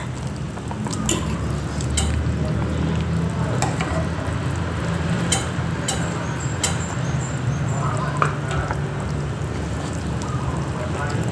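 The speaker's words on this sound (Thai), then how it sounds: "อันนี้เริ่มเดือดแล้วค่ะบวบก็จะเริ่มนิ่มแล้ว" Soup with luffa gourd simmering in a pot, giving a steady bubbling, crackling wash with occasional ticks and clinks, close and continuous, while someone talks over it.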